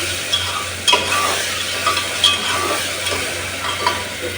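Onions and ginger-garlic paste are stirred in a hot pan for tomato rice, giving a steady close sizzle broken by a few sharp spoon scrapes and clinks against the metal.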